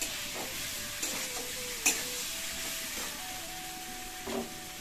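Pointed gourd (potol) frying in a pan, a soft continuous sizzle and hiss with a couple of brief clacks of a spatula, close and fairly quiet, with no talking.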